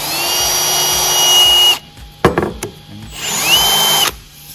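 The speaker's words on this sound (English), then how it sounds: "Drill it in one go." A power drill bores a 9mm hole through a thick steel bracket for a racing seat in one pass, whining steadily for nearly two seconds, pausing with a few clunks, then running loud again before stopping.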